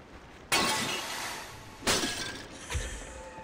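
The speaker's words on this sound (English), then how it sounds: "I don't feel guilty about smashing all your pots" Clay pots smashing in Prince of Persia: The Forgotten Sands, three separate shattering crashes spaced about a second and a half apart, each a sharp burst of breaking pottery fading into scattered debris.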